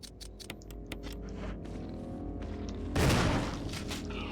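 Video game gunfire from Resident Evil Remake cracks in a string of sharp rapid shots, then a heavier boom swells near the end, fairly faint overall with no talk.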